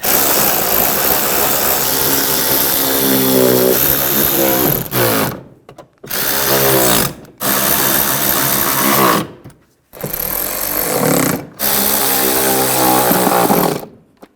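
A power tool tightens the nuts on a rear shock absorber of a 2009-2010 BMW 535i xDrive. It whirs loudly and steadily in several long bursts, each separated by short pauses.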